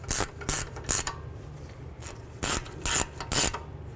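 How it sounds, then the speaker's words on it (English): Ratchet turning caliper bracket bolts on a Jeep Wrangler's rear brakes, close, sharp clicking bursts in a quick irregular rhythm with short pauses between strokes. "Let's bottom these bolts out."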